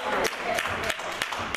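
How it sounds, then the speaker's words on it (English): A church congregation claps together in a steady rhythm, sharp unified hand claps landing roughly three times a second, with voices talking and singing alongside. "Come on, let's clap our hands."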